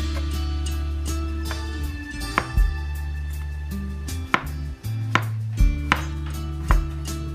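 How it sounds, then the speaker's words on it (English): A knife slicing cucumber into long strips on a cutting board, a series of irregular crisp chops and board taps, close and fairly loud over a low background hum. "For the cucumber, just slice them into long strips."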